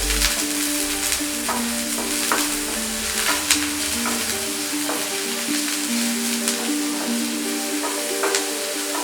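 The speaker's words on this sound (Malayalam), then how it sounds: "ഇനി നമുക്ക് ക്യൂബ്സ് ആയിട്ട് കട്ട് ചെയ്ത് വെച്ചിട്ടുള്ള ഈ സവോള ഇതിലോട്ട് ആഡ് ചെയ്ത് കൊടുക്കാം. സവോളയൊന്ന് നന്നായിട്ടൊന്ന് വഴണ്ട് വെച്ചേ." Cubed onions sauté in a hot pan with a loud, steady, close sizzle. Soft stirring scrapes and crackles run throughout, with no voices.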